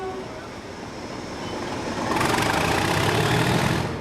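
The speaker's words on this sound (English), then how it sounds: "he is keen to give his engine some thrash" Railway locomotive under heavy throttle: a broad, steady engine roar that swells louder about halfway through and holds, with no speech.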